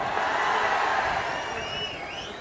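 Young audience at a motivational talk by Yandamuri Veerendranath clapping and cheering, a dense, steady wash of applause with a few whoops, fairly close and loud throughout.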